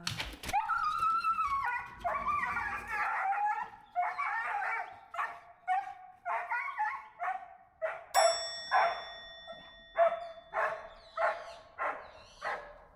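A dog barks and whimpers in the morning, starting with high whining cries, then settling into a steady series of repeated sharp barks, close and loud, with no talk over it.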